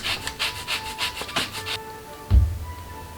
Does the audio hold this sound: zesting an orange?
yes